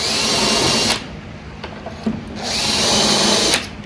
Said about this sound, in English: Just drill your pilots right there where you're going to start.